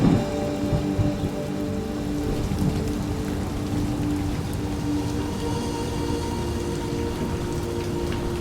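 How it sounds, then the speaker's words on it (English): Steady rain pours down in a dense, constant hiss of drops on surfaces, unbroken throughout with faint low rumbling underneath and no voices. "It's just been raining a lot"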